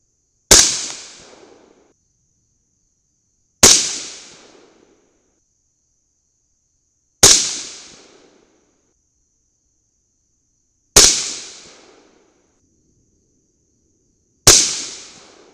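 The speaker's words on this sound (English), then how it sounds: "I wanna hurry up and shoot these Sierras after shooting that crappy Nosler group." Five single rifle shots of Mk 262-style handloads with Sierra bullets over 24 grains of AA2520 powder crack out about three to four seconds apart, each a loud, sharp report that quickly fades into silence.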